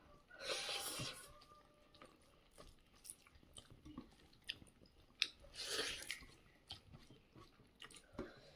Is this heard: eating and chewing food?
yes